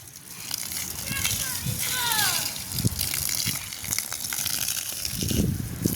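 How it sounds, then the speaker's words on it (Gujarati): Water is poured onto trees and plants outdoors, splashing and gushing onto the ground in uneven bursts, with voices talking throughout. "આપણે નાખીએ પાણી પેડ પૌધાને"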